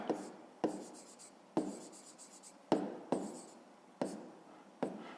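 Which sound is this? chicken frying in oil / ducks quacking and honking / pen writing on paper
pen writing on paper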